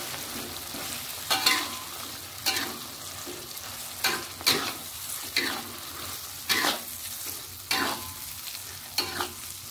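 Green chili sambal sizzles and fries in shrimp oil in a pan, with steady crackling broken by several sharp stirring scrapes spaced through the clip, close and moderately loud with no talking.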